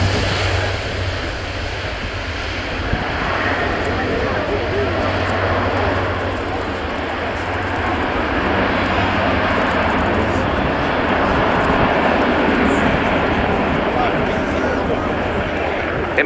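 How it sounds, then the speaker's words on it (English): An Airbus A400M Atlas four-turboprop airlifter roars continuously through an airshow display at RIAT, a dense, steady engine and propeller drone with a public-address voice talking over it. "It may be a big beast of an aeroplane, this 4-turboprop airlifter"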